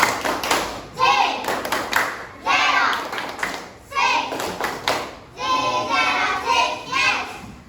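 A class of children doing the Tepuk Cijero clapping chant, bursts of rhythmic claps and taps mixed with group chanting voices, in several loud phrases separated by short pauses.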